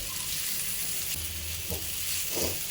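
Masala-coated fish pieces frying in oil in a pan, a continuous close hiss of sizzling with a few brief crackling bursts and faint handling noises.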